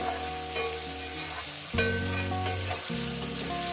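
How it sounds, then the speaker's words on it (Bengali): Potatoes fry in oil together with rohu fish, producing a steady close sizzle beneath a backdrop of tonal music, with no voices. "সঙ্গে আমি আলুগুলো দিয়ে দিলাম যেটা একসঙ্গে ভাজাটা হবে"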